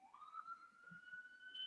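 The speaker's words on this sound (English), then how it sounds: "I just heard a siren." Police siren wailing outside in Brooklyn, a rising, sustained electronic tone heard at a distance, alone with no talk over it.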